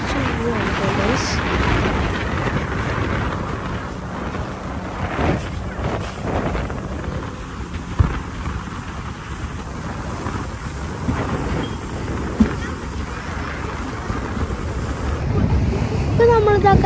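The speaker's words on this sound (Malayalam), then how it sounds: "നല്ല കാറ്റുമാണ്, വെള്ളമൊക്കെ തെറിച്ച് വീഴുകയാണ് ഗൈസ്." On a boat trip to Cathedral Cove near Hahei Beach, strong wind buffets the boat and water splashes up in a continuous loud rush, with muffled voices underneath.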